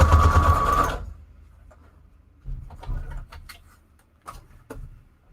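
Sewing machine making a short loud burst of straight stitching through scrap paper, close up, followed by faint clicks and handling taps.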